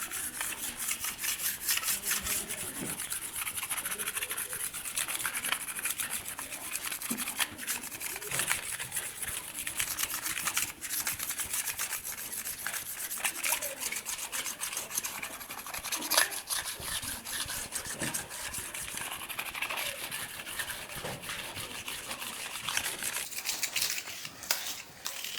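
Continuous hissy rubbing as a 3D marble-effect stucco decor surface is polished, a steady dense friction noise with small rhythmic variations running throughout at moderate loudness.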